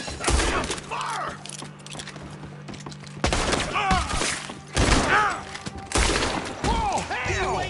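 Gunfire in the video game Red Dead Redemption 2, with repeated sharp shots scattered across the scene, some bursts close and loud, amid shouting voices.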